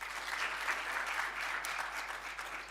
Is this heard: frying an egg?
no